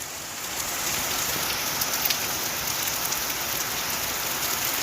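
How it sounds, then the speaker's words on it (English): Heavy rain pours down in a steady, dense hiss, close and loud, continuing without break for about five seconds with no voices. "Thank you, Lord, for the rain."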